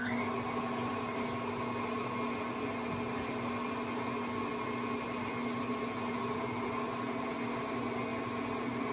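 An electric mixer beating an egg into banana bread batter, a steady loud whirring motor drone with a constant hum that runs unbroken throughout, no voices over it.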